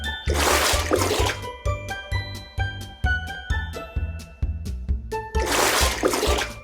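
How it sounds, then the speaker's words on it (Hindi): Pebbles are dropped one after another into a clay pot of water: a splash at the start and end, with a quick series of bright plinking drops between them. "एक के बाद एक वो घड़े में कंकड़ डालता गया।"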